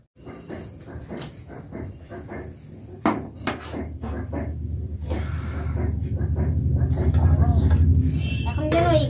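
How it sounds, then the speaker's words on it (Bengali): Cooked rice is tipped out of a pot in a Bengali home kitchen, with metal clanks and scraping knocks that build into a steadier rushing pour near the end. A voice talks over it throughout. "এখানে আমার ভাত হয়ে গেছে, ভাতটাকে একটু ঢেলে ঢেলে নিচ্ছি।"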